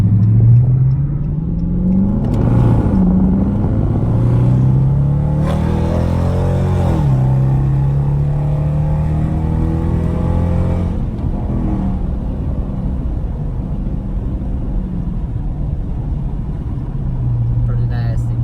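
Close-up revving of a 2019 Dodge Charger R/T fitted with an X-pipe and a mid-muffler delete: several deep, loud throttle blips rise and fall over a rumbling idle.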